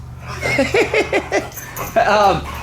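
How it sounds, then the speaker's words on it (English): Dogs in a dirt bike shop give a quick run of sharp yips and barks followed by a drawn-out whimper, close and loud over a low steady hum. "We do have mean dogs."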